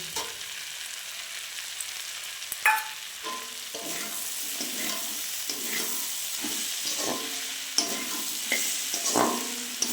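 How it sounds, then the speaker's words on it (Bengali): Fried pond crabs go into a pan of spiced frying masala and are stirred, giving a steady close sizzle with repeated scraping stirs and occasional clatters, no voices. "এবার আমি দিয়ে দেবো ভেজে রাখা কাঁকড়াগুলো।"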